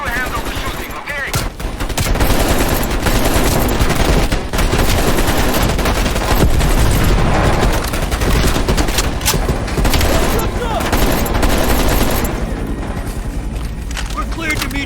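Sustained heavy machine gun fire in the Call of Duty Cold War video game, a loud, dense, nearly continuous barrage with deep booms underneath, while voices talk over it.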